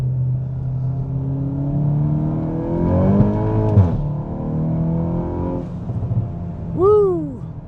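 A Stage 3 tuned MK8 Volkswagen GTI accelerating hard in second gear, engine note climbing loudly with a turbo spool, then a shift and a brief rev, heard from inside the car.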